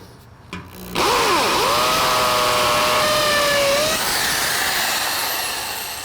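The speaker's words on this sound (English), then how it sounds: "I'm going to pre-drill the holes." A power drill pre-drilling holes spins up loudly with a rising whine, runs steadily for about three seconds, then winds down into a lingering hum.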